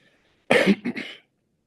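A single close cough burst from a person under the weather, rough and throaty, breaking into two or three quick pulses before stopping in silence.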